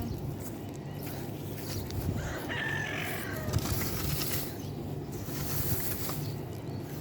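Chickens clucking with a rooster crowing in a village yard near a bonfire, the calls moderately distant and partly buried in steady broadband background noise.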